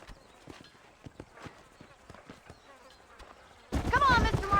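Repeated horse hoof clip-clops in Red Dead Redemption at a steady trotting rhythm, moderately close, then a loud burst of buzzing, chirpy noise cuts in near the end.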